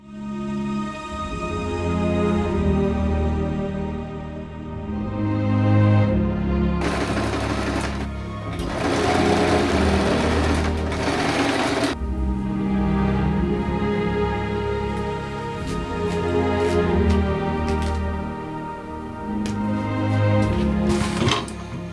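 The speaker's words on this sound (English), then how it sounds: "And then sew both parts together around the top edge." Sewing machine stitching together parts of a cosplay bride dress, a steady close-up mechanical whir with fast rhythmic needle clatter that surges louder in bursts and runs continuously with no voices.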